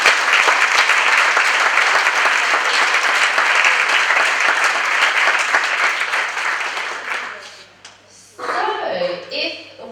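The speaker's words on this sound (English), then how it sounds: "So one more massive round of applause for everybody here." A large indoor audience gives loud, sustained applause at a college hairdressing event, thick clapping for about seven seconds that fades out as a voice begins talking.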